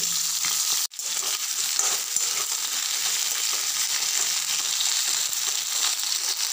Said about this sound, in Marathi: आता आपले वांगे फ्राय होत आहे